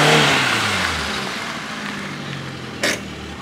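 A Hyundai i10 car engine runs loud at first, settling from a revving start into a steadier hum that fades slightly, with a brief sharp click or bump near the end.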